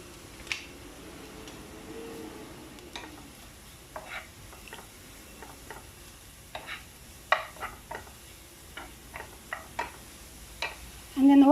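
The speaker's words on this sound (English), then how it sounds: "we will fry the spring onions for 1 minute" Spring onions fry in a pan for cod and prawn fishcakes, giving a soft, steady sizzle broken by scattered clicks and taps of a utensil stirring, fairly quiet throughout.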